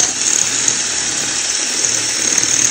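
Power drill running, a loud continuous high-pitched electric whine with a steady motor hum underneath, held without pause and with no talking.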